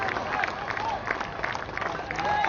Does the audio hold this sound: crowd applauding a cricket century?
yes